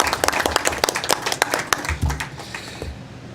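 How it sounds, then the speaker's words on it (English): Audience at a town Board of Education meeting breaks into applause, sharp individual claps that thin out and fade toward the end, with faint voices underneath. "Another round of applause."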